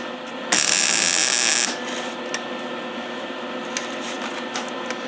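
Welding bracing onto an old aerator produces a loud, close buzzing crackle of the arc for about a second, then faint ticks and clicks against quiet shop hum.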